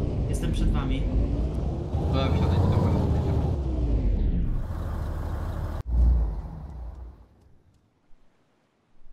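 A vehicle drives in the DayZ video game, a loud engine rumble that rises and falls, then cuts off with a sharp thud and fades to near silence, with voices talking over it.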